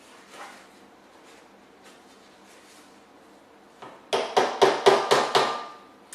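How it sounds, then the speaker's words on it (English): One screwdriver is struck against another used as a makeshift hammer, first a few faint taps, then a rapid run of six or seven loud, sharp metallic knocks near the end. "I'm using my other screwdriver as a little hammer to get down in there"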